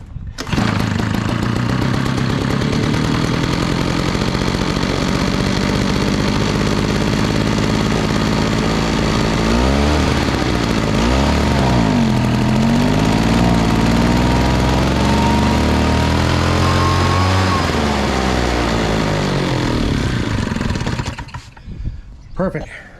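A RedMax two-stroke backpack blower engine runs loud and close, holding a steady drone, then revving up and down several times in rising and falling sweeps before it drops off near the end.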